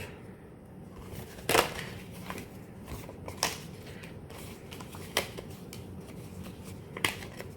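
Paper cards for a bead box package being folded in half, with soft rustling broken by a few sharp creasing snaps spaced several seconds apart, close and fairly quiet.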